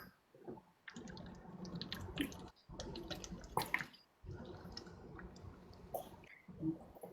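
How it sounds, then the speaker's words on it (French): Someone takes a sip of water close by, with faint wet slurping, swallowing and mouth sounds broken by brief pauses, quiet and with no talking. "Une gorgée d'eau"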